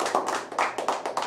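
Studio audience applause on a Brazilian television talk show: a burst of uneven, rhythmic hand clapping from a small group, close and lively, with no talking over it.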